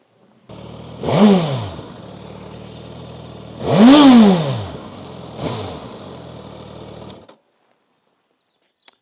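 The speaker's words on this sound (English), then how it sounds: "if that ain't the sound of a powerful bike, I don't know what is" Suzuki GSX-S1000GT touring motorcycle engine revving hard three times, the first two blips loud and sweeping up then falling, a shorter third rise, over a steady idle that cuts off sharply.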